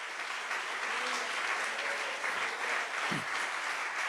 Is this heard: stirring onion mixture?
no